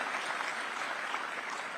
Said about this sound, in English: So we can have a round of applause for that.